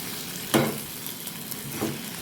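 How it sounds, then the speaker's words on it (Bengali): Prawns and vegetables fry in a pan at a soft, low sizzle, punctuated by a sharp spatula scrape or clank near the start and another stir toward the end. "এটিকে এবার ভালো করে ফ্রাই করব।"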